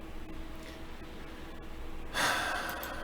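A single sharp sniffle, a quick nasal inhale close to the microphone near the end, after a few seconds of quiet room tone.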